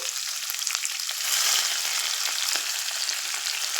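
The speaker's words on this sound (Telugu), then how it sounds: "బాగా ఫ్రై అవ్వాలండి బాగా ఫ్రై చేయండి" Onions and cumin seeds frying in hot oil, a dense close sizzle that swells slightly midway and then stays steady for a few seconds, with faint stirring scrapes and no talk.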